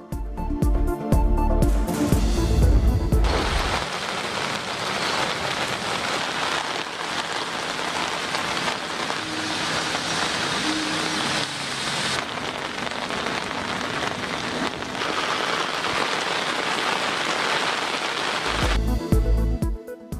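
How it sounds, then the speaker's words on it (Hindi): Heavy rain pours down in a steady, dense roar during a thunderstorm, loud and continuous for about twenty seconds with no voices over it. "जुड़वा शहरों में गरज चमक के साथ बारिश"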